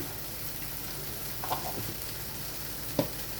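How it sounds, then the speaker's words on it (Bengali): Ground yard long bean paste with salt fries in a pan, a soft, even sizzle running throughout, broken by two brief clinks of stirring. "এবার আমি ভালো করে এটাকে ভাজতে থাকবো।"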